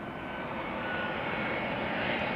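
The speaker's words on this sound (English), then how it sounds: "A319 arriving from the Czech Republic, from Prague." An EasyJet Airbus A319 arriving at Schiphol from Prague, a continuous broadband jet roar at moderate distance, steady and unbroken, with no voices.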